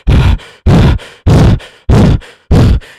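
A voice mimics a movie character's heavy breathing: five loud, close, rasping grunt-like breaths in a steady rhythm, each a harsh burst followed by a softer trailing exhale.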